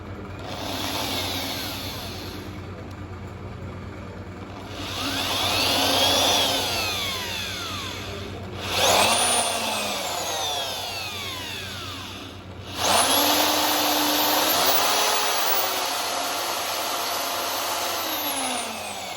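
A high-pitched high-speed power drill whines in long bursts with short pauses between them, its pitch rising and falling as it bores through animal horn for a shofar.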